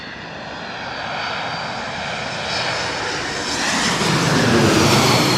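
An airliner comes in to land at LaGuardia in Queens, its engines giving a steady, broad roar that swells and grows louder as it draws nearer.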